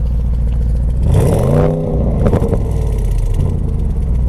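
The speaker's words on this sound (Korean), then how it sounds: "가속 페달을 좀 밟아보면요" Audi S8L in dynamic mode, engine revving as the accelerator is pressed from idle: a low idle rumble swells into a short rising rev with a throaty exhaust burst, then drops back to a steady idle, close and loud.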